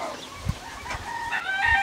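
A formerly indoor pet chicken with a severe neurological disorder, clucking and crowing in short bursts with a few quick calls rising at the end, fairly close and alone.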